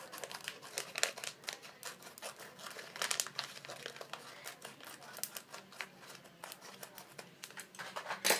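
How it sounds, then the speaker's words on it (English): Scissors cut along marked lines of a paper wig template, a quiet run of crisp snipping and crinkling paper rustles in an uneven rhythm, close and unaccompanied. "you're going to cut along those lines again"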